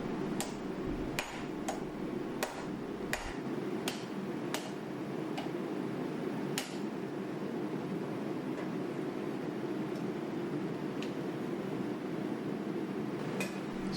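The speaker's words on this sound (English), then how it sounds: "I took it over to my other anvil and my hardy cutoff tool and cut off the excess." Sharp metallic strikes ring out irregularly against a steady background hum as leaf spring steel is cut on a hardy cutoff tool set in an anvil, the blows clustered early and then thinning out.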